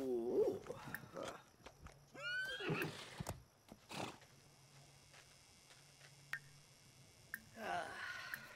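A horse in the Red Dead Redemption video game gives a clear whinny and snorts, with scattered hoof clops and clicks between quieter stretches and another soft whinny near the end.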